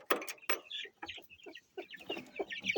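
Chickens and chicks cluck in short, busy bursts close by, several birds overlapping in a choppy rhythm with brief pauses.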